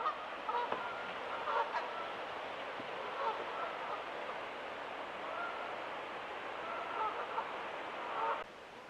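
Several geese honking at a gorge overlook near Elora, repeated calls scattered across the clip over a steady wash of rushing water, moderately distant.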